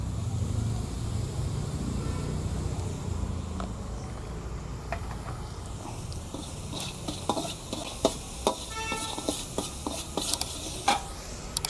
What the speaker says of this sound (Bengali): সামান্য জল দিয়ে মশলাটাকে কষিয়ে নেব